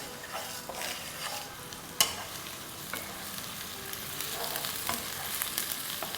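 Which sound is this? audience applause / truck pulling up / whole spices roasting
whole spices roasting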